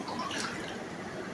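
Rainwater drips and trickles inside a flooded room of a Dhaka home during the monsoon, a faint, steady watery patter with no voices.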